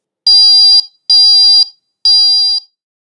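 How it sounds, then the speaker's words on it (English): GammaView scintillation survey meter software alarm sounding three loud, identical electronic beeps at an even pace, clean and close with silence between them. "A software-based alarming function is available as well."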